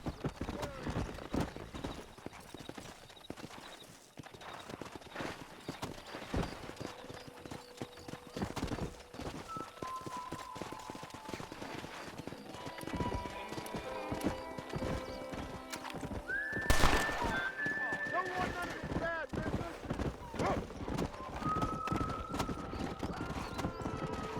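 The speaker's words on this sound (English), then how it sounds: "That ranch hand said there's a pack of wild horses nearby." Horses' hooves clip-clop at a gallop while loud neighs and whinnies cut through, with bursts of talk and game-like ambience layered over them, from Red Dead Redemption.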